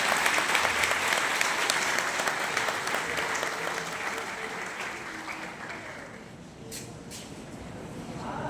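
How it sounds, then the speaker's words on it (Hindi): An audience at an Independence Day poetry recital at a college applauds loudly in a dense, sustained burst of clapping that gradually thins and softens after several seconds. "बस केवल और केवल तालियां हैं, जोरदार तालियां होनी चाहिए"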